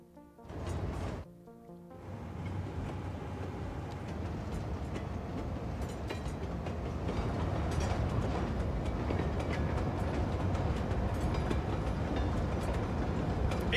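Trains roll out of a large rail depot in the city-building game Cities Skylines 2, a steady, loud rumble with rhythmic clatter that builds and holds for over ten seconds after a few brief mechanical clunks.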